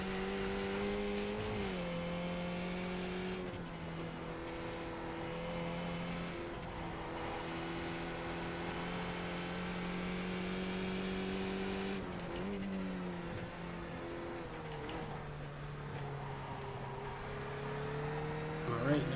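A race car engine in the iRacing video game drones and rises in pitch as it accelerates out of corners, with a steady near howl that drops and climbs again at each shift or lift.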